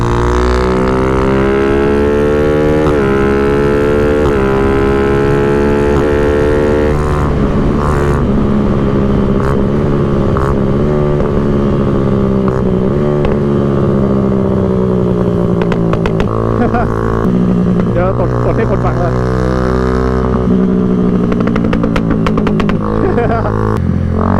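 A motorcycle is ridden, its engine holding a loud, continuous drone that rises and falls a little, with voices heard over it throughout.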